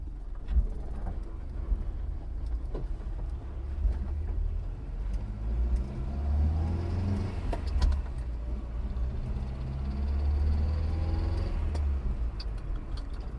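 A Nissan 1400 pickup drives along a road, its low engine hum and road rumble steady throughout, with faint rattles from the cab.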